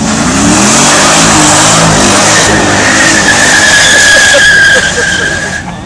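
A V8 supercar roars hard and loud on a track at the Cholmondeley Pageant of Power, engine note climbing as tires squeal and skid through the run, close and overpowering throughout.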